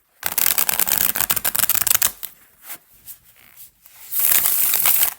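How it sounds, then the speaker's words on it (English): A thick tarot deck with matte cardstock shuffled by hand, giving close, dense riffling flutters and paper snaps in two bursts separated by a quieter stretch of soft card handling. "It's just enough that I can shuffle it, but it is a struggle bus."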